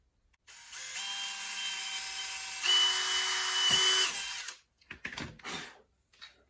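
A power drill whirs steadily for about four seconds, rising in pitch partway through, while fitting bolts for coolant and fuel line brackets on a Hayabusa motorcycle rebuild, then stops and a few short clattering knocks follow.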